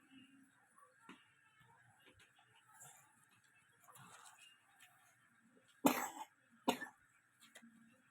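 Two sharp, close coughs, one just before the other, stand out against a quiet indoor room with faint soft movement sounds.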